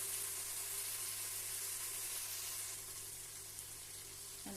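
A steady, faint sizzle of ingredients sautéing in a pan for chicken biryani, a continuous frying hiss with a low hum underneath and no talking.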